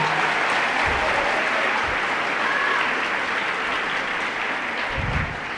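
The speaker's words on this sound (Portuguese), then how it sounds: "Pode aplaudir." A church congregation applauds during a sermon, giving a dense, steady wash of many hands clapping at once that stays loud all the way through and eases off only slightly at the end.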